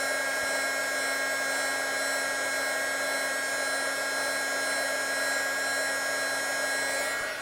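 Heat gun blowing hot air onto metal being prepared for sifted powder coating, a steady loud whooshing hum with a constant motor tone, unbroken for the whole stretch and free of talk.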